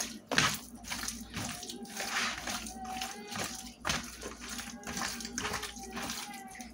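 Tap water runs into a kitchen sink during hand washing while cooking chicken, a continuous splashing rush with uneven surges and knocks, fairly close, with faint voices in the background.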